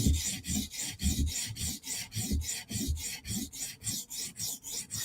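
A Chris Reeve Umnumzaan knife blade is drawn across a sharpening stone in a steady rhythm of about twenty close, raspy strokes, each a short scraping swipe.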